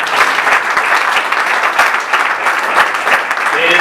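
Loud, dense applause from an audience welcoming a director general at a ceremony, sustained and even throughout with a faint murmur of voices underneath.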